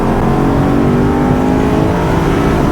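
A Corvette drives at speed on a race track. The engine gives a loud, steady drone with the whine of rising revs, close and continuous throughout.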